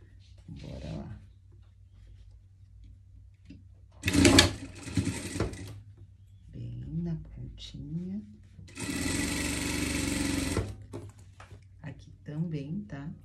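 A sewing machine stitches a French seam on fabric for surgical clothing, running loudly in two separate bursts of a second or two each, with a person talking in the pauses around them.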